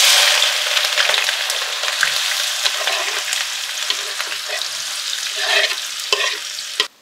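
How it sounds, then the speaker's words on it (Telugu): Chopped onion and green chili hit hot oil for a fish pulusu, giving a bright, hissing sizzle with stirring scrapes and clicks, loud and close, ending abruptly. "ఆయిల్ ఆనియన్, మిర్చి వేసేసుకుందాం కట్ చేసుకున్నది."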